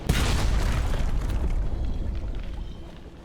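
A single deep, booming blast of a ship's gun in the Sunless Sea video game, heavy and close, with a long rumbling tail that slowly fades over about three seconds.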